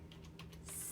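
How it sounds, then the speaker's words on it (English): Short burst of typing on a computer keyboard, several quick close key clicks in under a second, alone and fairly quiet. "I'm going to type in coloring book Rudolph"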